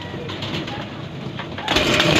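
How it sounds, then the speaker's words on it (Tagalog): A blue bar pigeon coos softly at close range over a rustling background, followed by a louder burst of handling or wing noise. "ito yung kalapate"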